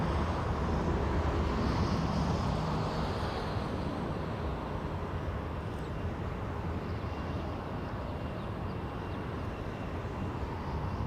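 A jet aircraft, Air Force One, landing at LAX, heard as a broad steady engine roar that holds loud and continuous throughout with a slight fade, with no talk over it.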